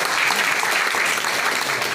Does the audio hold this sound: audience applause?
yes